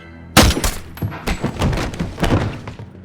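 A rapid string of sharp gunshots, loud and close, bursting in an uneven volley with thuds and echoing clatter between them.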